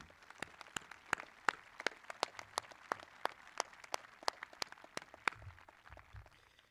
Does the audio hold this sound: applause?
yes